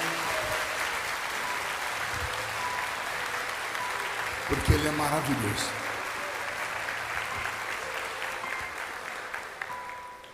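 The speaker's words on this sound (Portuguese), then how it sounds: "os que podem, estão no seu assento aplaudindo a Jesus, porque Ele é bom" A church congregation applauds Jesus from their seats during a Pentecostal service, steady clapping filling the hall for several seconds beneath a preacher's amplified voice, swelling briefly near the middle.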